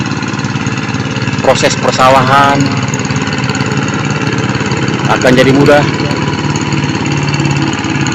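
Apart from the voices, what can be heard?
hand tractor engine running in rice field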